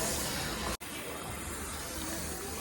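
Hot water runs steadily from a salon shampoo-basin tap during a hair wash, a constant close splashing hiss broken by one very brief gap near the start.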